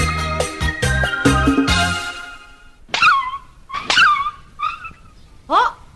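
A dog whimpers and yelps in a few separate high, whining cries after a stretch of other sounds, fairly close and alone with no talk.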